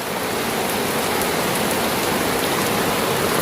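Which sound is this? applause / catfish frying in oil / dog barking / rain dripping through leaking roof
rain dripping through leaking roof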